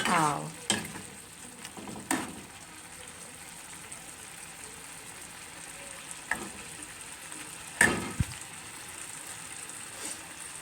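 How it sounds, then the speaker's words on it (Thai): Pork stir-roasts in a pan, a steady low sizzle with occasional loud knocks and scrapes of a utensil against the pan, and no talking. "เป็นเนื้อหมูเอาไปรวนนะคะ"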